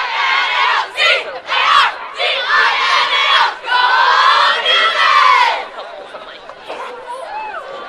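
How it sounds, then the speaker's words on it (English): A girls lacrosse team shouts a loud group cheer outdoors, several bursts of many young voices yelling together in rhythm, then fading into crowd chatter. "Gotta love the team cheer."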